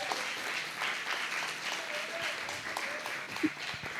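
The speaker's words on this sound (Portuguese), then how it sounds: "pode aplaudir o Senhor" A congregation at an evening church service applauds, giving a soft, diffuse wash of clapping with a low crowd murmur and a brief voice in the background.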